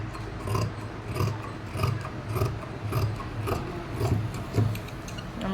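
Scissors cut through fabric for trousers in repeated rhythmic snips and rasping strokes, close and moderately loud, with no talking.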